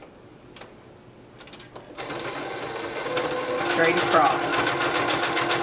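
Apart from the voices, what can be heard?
sewing machine stitching a face mask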